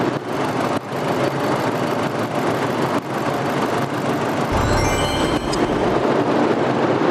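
An Audi TT Roadster's turbocharged 2.0-litre TFSI engine runs steadily and loudly close by, with a deeper rumble swelling briefly near the end as if revved.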